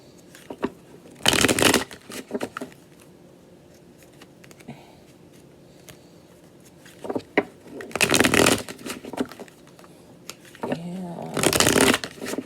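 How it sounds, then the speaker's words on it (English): A tarot card deck is cut and shuffled in three quick, loud riffling bursts, each about half a second long, separated by quieter stretches with faint handling sounds. "I want to cut that deck."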